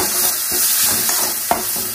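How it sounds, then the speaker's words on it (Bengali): Loud, steady sizzling of tomato masala frying with salt, turmeric and spices in a pan, with stirring scrapes and an occasional sharp knock of the spoon against the pan, close and continuous. "টমেটোটা যতক্ষণ না নরম হয় ততক্ষণ ভেজে নেবে।"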